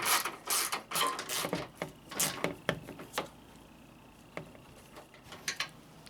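Bolts being snugged up on a radiator cooling fan of a 2009-2015 Honda Pilot, sharp close clicks and ratcheting bursts in irregular clusters, quieter and sparser toward the end.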